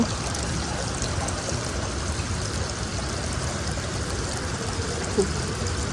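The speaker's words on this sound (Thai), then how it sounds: "ฟังเสียงด้วยจ้ะเสียง เสียงน้ำด้วยจ้ะนี่นะน้ำลง" Steady running water from a stream, a continuous broadband rush with no breaks and no voices.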